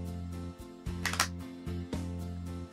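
A Nikon D7000 DSLR fires its shutter and mirror in quiet mode, producing a few soft mechanical clacks and thuds, each in two distinct parts, close over a steady low hum.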